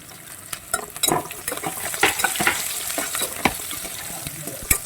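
Onion and curry leaves sizzle in a hot pan as they are sautéed for sambar, with a steady frying hiss broken by repeated scraping and stirring clicks from a spoon against the metal.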